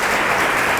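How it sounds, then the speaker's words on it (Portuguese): A crowd at a religious gathering applauds, dense steady clapping filling the short moment. "Então você pode aplaudir o Senhor Jesus por todas nós"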